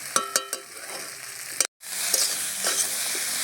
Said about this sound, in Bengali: লঙ্কার গুঁড়োটা দিয়েও বেশ সুন্দর করে কষিয়ে নিয়েছি